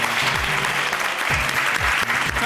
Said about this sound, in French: Allez, on applaudit toutes ces filles.